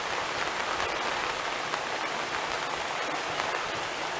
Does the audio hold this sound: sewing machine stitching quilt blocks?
no